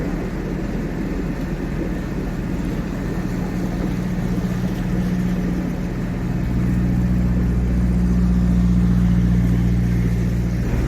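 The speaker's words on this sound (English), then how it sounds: "There's a white beam in a rush just overtaking this Dutch barge and it's coming straight for us." A motorboat rushing past a Dutch barge on a river, its engine a steady loud drone that swells and grows heavier as it draws near, with no voices heard.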